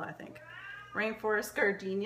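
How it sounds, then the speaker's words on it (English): A pet cat meows to be let out, several short plaintive calls at close range in a home, with a person speaking in between. "That's my cat wanting out."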